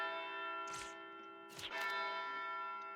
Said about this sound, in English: Those are funeral chimes.